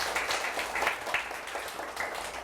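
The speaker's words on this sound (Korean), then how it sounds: "박수 소리가 더 힘찬 것 같아요" A lecture audience applauds at the start of a special class, with dense, steady clapping that fills the whole stretch at an even, moderately loud level.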